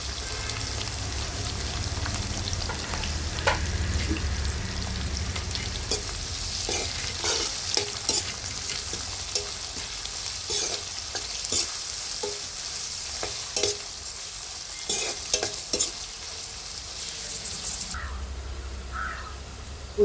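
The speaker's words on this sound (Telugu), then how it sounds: "ఉల్లిపాయ ముక్కలు వేగి కదండి" Chopped onions frying in a pan for veg biryani, a continuous close sizzle with irregular spatula scrapes and taps through the middle, no voices.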